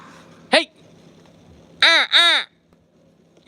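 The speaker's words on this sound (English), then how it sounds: "Crows." Crows caw near a ryokan in Fuji City, Japan: one short caw, a pause, then two loud, harsh caws in quick succession and another starting at the end, over quiet background.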